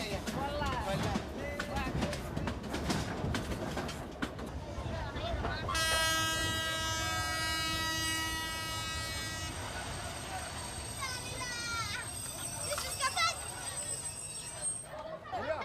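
A train horn sounds as a sustained, steady toot for several seconds midway, heard over a busy background of chatter and rumbling movement from a train stopping where traders sell goods.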